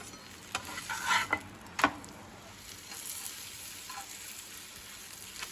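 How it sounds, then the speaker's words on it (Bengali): Rotis frying in a pan for a Bengali breakfast, heard as a soft steady sizzle with a few louder clinks and stirring scrapes early on, fairly quiet with no talk. "রুটিগুলো ভেজে নিই"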